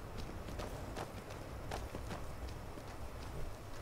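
Faint, evenly spaced horse hoofbeats from the video game The Elder Scrolls V: Skyrim trot along under a steady background wash, with no talking.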